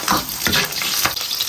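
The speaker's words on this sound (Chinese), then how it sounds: "葱姜蒜爆香" Scallion, ginger and garlic hit hot lard in a wok, a dense, close hiss of frying with a few bursts of crackle as the aromatics are stirred, brief and steady.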